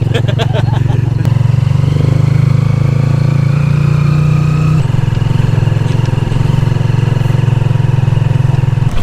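A motorcycle trike engine drones loudly and continuously while carrying four adults and two babies in Coron, Palawan, with a slight shift in pitch partway through and voices mixed in.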